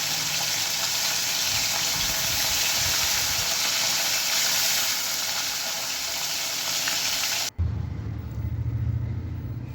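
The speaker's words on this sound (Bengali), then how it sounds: "আমি প্রথমেই মাছটা ভেজে নেব" Koi fish frying in hot oil makes a loud, dense, continuous sizzle, close up, which cuts abruptly to a quieter hiss with a low rumble near the end.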